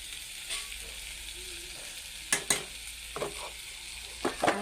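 Eggplant frying in a pan for begun bhaji: a steady close sizzle of oil, broken by several sharp spatula scrapes and stirs.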